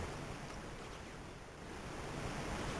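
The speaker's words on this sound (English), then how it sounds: "I hear water." Steady broadband rush of running water in the video game Duke Nukem 3D, a continuous hiss-like flow at moderate level with no breaks and no voices over it.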